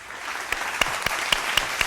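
A studio audience at a quiz show claps steadily, a dense close burst of applause with a few sharper individual claps standing out.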